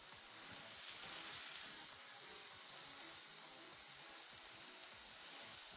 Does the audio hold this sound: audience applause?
no